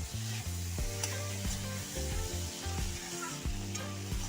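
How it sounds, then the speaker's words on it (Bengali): A short stretch of spice masala frying in a pan, with a constant close sizzle broken by a few distinct stirring scrapes and no speech. "মশলার সাথে ভালো করে ভাজা ভাজা হয়ে গেছে"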